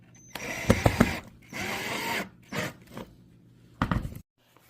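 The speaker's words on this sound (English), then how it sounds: "and screw it in." Several short bursts of a power drill driving a screw into PVC, separated by pauses, with mechanical whirring and clicks close by.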